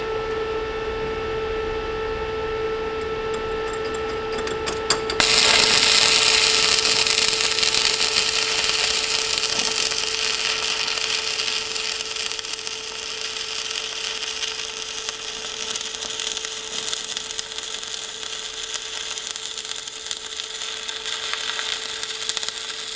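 A Sefaspe MMA 205SE stick welder arcs with the work clamp moved onto the piece. After a quiet start, a loud, steady crackling hiss breaks in at about five seconds and holds without pause, close by.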